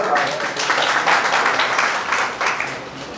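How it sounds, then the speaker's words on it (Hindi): An audience at a company's annual general meeting gives sustained applause, with a steady wash of clapping filling the room and no clear pauses. "सभी लोग तालियों से एक बार"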